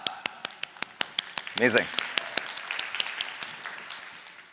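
An audience claps in a brief round of applause, loud sharp claps at first that thicken into a dense patter and then taper off, while someone speaks briefly over it.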